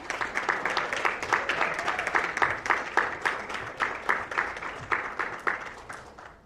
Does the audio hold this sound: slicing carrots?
no